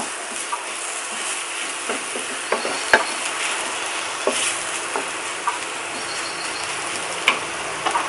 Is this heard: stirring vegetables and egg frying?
yes